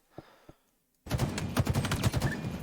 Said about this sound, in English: And then I hear the gunshots over here.